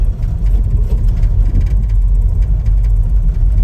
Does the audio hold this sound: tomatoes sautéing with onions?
no